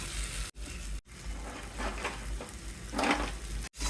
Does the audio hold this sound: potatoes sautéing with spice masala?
yes